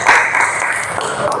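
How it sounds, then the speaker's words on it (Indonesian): Classroom clapping for a student group, a short burst of many hands applauding close by with a voice faintly audible beneath. "beri tepuk tangan untuk kelompok 1"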